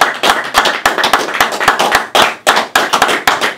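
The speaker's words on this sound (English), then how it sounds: "Somebody clap your hands unto God." An audience at a Wednesday church Bible study claps hands in loud, close, rhythmic bursts, sharp regular slaps in an even beat with little talking.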